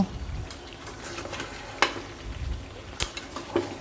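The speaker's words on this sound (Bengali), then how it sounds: "আবারও এটা ভালো মতো করে কষিয়ে নেব" Beef sizzles in a pan while a spoon stirs and scrapes, with a few sharp clinks against the metal.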